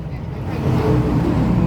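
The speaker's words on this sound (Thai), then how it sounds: "นี่ก็เป็นกระแทะซิ่งนะ" A modified kratae, a Thai farm cart vehicle, runs with a low, rough engine rumble close by, heavy wind buffeting the microphone, and someone talking over it.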